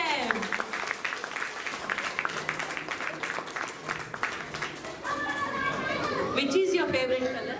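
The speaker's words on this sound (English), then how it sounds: "Applaud for them." Audience applause after a school children's performance, a dense burst of clapping from a crowd that fades under growing chatter and children's voices toward the end.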